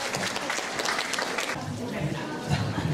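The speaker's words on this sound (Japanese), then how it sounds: "拍手でお迎えくださいませ。" A concert hall audience at a music festival applauds to welcome a guest pianist, a continuous wash of clapping at moderate level with low murmurs of voices beneath.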